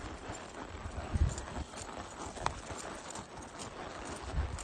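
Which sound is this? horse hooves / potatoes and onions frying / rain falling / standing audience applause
horse hooves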